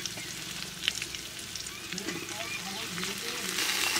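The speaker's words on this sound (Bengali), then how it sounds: "সমস্ত সবজি আলু আর সয়াবিনের সঙ্গে 2-3 মিনিট মতো নেড়ে নেব।" Vegetables, pumpkin, greens, capsicum, potato and soya chunks fry in oil for khichuri, a close, steady sizzle with intermittent stirring scrapes and clinks, moderately quiet and without spoken words.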